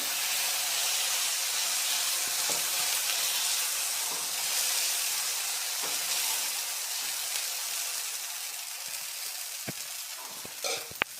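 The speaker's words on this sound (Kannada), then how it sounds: "ಈಗ ಚಿಕ್ಕ ಚಿಕ್ಕದಾಗಿ ದೋಸೆನ ಹಾಕ್ಕೊಳ್ತೀನಿ" Small dosas of drumstick-leaf batter sizzle on an oiled griddle, a loud, continuous close-up hiss of frying that stays steady throughout, with a few faint clicks near the end.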